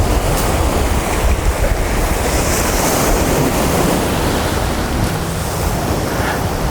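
Ocean waves wash steadily onto a beach at Pagudpud, Ilocos Norte, a loud continuous roar of surf mixed with wind buffeting the microphone, without talk.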